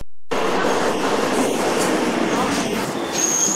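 A Lakshmikantapur local train pulls into platform 2 at Jadavpur station, its steady rumbling roar close and continuous, with wheels rattling on rails and a faint high squeal toward the end.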